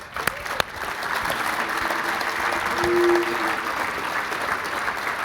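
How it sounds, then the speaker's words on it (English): Sustained audience applause fills a town-hall style event with Illinois Governor Bruce Rauner, a dense steady wash of many hands clapping that swells slightly midway, with a couple of sharp louder claps near the start. "How about applause for that?"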